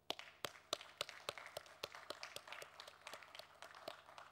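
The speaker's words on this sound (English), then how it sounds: "maybe we can actually clap for ourselves" Scattered hands clapping in a conference session audience, sharp irregular claps from a small group, fairly faint and thinning toward the end.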